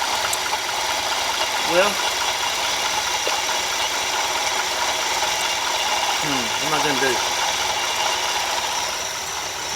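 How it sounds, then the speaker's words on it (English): A car engine with a rebuilt alternator idles steadily, a constant mechanical hum with occasional ratcheting clatter mixed in, while someone talks nearby. "she really idles good"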